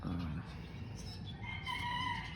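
A gamefowl rooster of the Velcro line crows faintly in a cage setting, a single drawn-out crow toward the end over low background noise and a brief voice.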